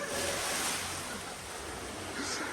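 Water sloshing and splashing in an indoor gym swimming pool as a person jumps in, a steady broadband wash that stays fairly loud and continuous throughout, with no voices.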